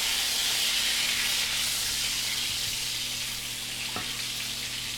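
Potatoes fry in butter in a pan, a steady close sizzle with a soft hiss running throughout, broken by a brief scrape or knock near the end as they are turned.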